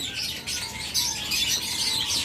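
Cockatiels chirp and whistle continuously inside a crowded bird shop, a dense layer of high, overlapping calls heard at moderate volume with no talking.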